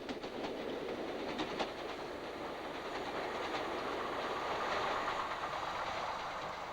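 A British Rail Class 40 diesel locomotive hauls a train past with a steady low rumble and rhythmic wheel clatter, fairly close and continuous throughout.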